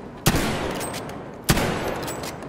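Two sharp rifle shots about a second apart in a Battlefield V match on the Metro map, fired with a Lee-Enfield, each followed by a rolling echo over continuous battle noise.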